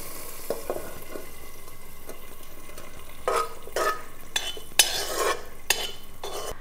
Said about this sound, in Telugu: ఇప్పుడు మన తాలింపు దీనిలోకి యాడ్ చేద్దాం.